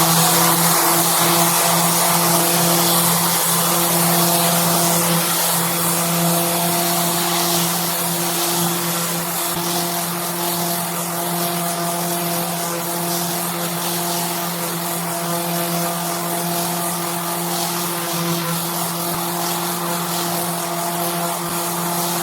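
A random orbital disc sander works a wooden surface with a steady, unbroken motor whine and buzzing grit noise, close and continuous for the whole stretch.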